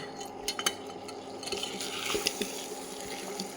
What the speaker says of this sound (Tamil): உப்பு போட்டு ஒருக்கா கிண்டி விட்டுக்கோங்க.